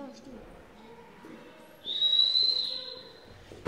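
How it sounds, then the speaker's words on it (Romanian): Someone whistles outside a school classroom door, a single sharp high whistle lasting under a second, heard clearly over a quiet room with a voice speaking faintly beforehand. "așa se face în școală, se fluieră?"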